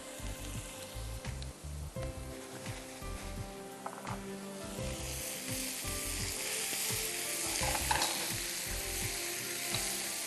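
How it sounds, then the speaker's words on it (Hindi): Fish fingers deep frying in cooking oil in a home kitchen, a steady sizzling hiss that swells from midway and stays loud, with clicky clatter and knocks over it and no talk. "चलिए अब इसको हमें डीप फ्राई कर देना है फ़िश को।"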